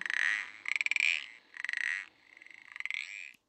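A frog croak played from a button on a children's sound book, four bursts of rapid raspy pulsing croaks in a row, close and clear with nothing else around.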